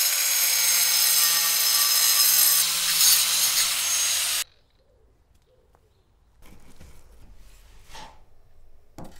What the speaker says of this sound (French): Tu peux utiliser la meuleuse d'angle.